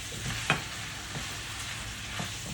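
Hot noodles frying and being stirred in a pan, with a steady sizzle throughout and a few sharp scraping stirs of the utensil against the pan.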